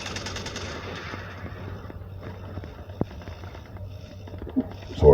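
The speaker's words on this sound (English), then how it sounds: "I can hear the gunshots" Scattered gunshots and short bursts of automatic fire in a video game, mostly distant and muffled, with one sharper crack and a louder burst at the end, heard from a street.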